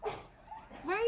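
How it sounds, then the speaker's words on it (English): A dog gives a short yip and whimper, close by and brief, with a voice talking over it. "What are you barking at?"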